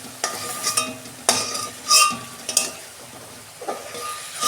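Whole cumin seeds hit hot oil left from frying prawns in a Bengali kitchen, giving a close crackling sizzle broken by several sharp bursts and scraping stirs, with no talking.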